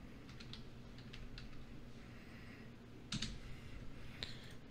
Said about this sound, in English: I will select my Wi-Fi and then type in the password